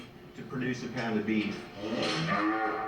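Cattle being fattened for beef on an intensive diet low and moo repeatedly, with long drawn-out harmonic calls overlapping one another for about three seconds at a steady moderate level.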